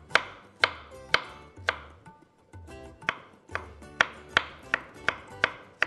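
Knife chopping food into small pieces on a board, with sharp, evenly spaced thuds in a steady rhythm, a brief pause midway, then faster chopping.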